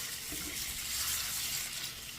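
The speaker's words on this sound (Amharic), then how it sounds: "አንድ ኩባያ ውሃ ጨምርበታለሁ" A cup of water is poured onto sprouted fenugreek, a soft continuous hiss and splash of liquid lasting a couple of seconds, fairly faint and close, with no talking.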